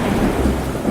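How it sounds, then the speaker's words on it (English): Heavy rain falling outdoors with a deep, rumbling roll of thunder, a steady loud wash of downpour over low continuous booming, no voices present. "It starts raining heavily outside."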